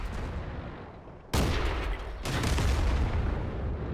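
Tank cannon fire in the World of Tanks game: a sudden loud boom that rings out, then a second heavy blast about a second later, both over a steady rumbling battlefield background.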